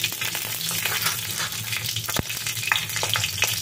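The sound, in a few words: whole spices and green chillies frying in a pan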